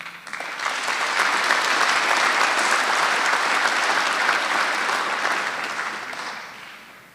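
A graduation ceremony crowd breaks into applause, many hands clapping together that swell quickly, hold a full, steady roar and then taper away.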